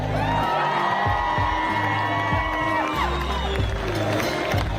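Arena crowd at the Vail 2013 IFSC bouldering World Cup finals applauding and cheering steadily, with whoops rising over a continuous loud wash of clapping while an announcer's amplified voice sounds intermittently.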